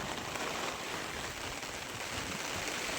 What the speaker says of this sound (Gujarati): વરસાદ વધી ગયો છે